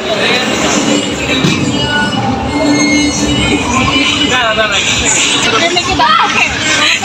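A small amusement park ride train rolls along with rattling wheels and squeals, loud and close, while people talk and laugh over the clatter.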